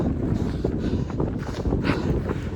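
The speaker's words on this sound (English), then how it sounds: "This is mile 3, and I'm straight into the wind." Wind buffets the microphone of a runner heading straight into a headwind outdoors, a steady close rumbling roar with gusty swells that persists through the whole stretch without any talking.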